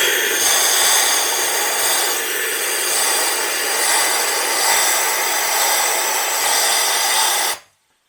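Media blasting bare car body metal on a Jaguar XJ6, fed by an air compressor, makes a loud, steady, close hiss of abrasive grit that holds for several seconds and then cuts off abruptly.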